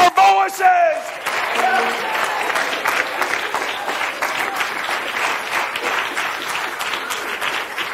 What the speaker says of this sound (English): We're going to clap our hands.